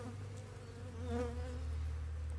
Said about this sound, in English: Seems like most of the bees have moved downstairs already.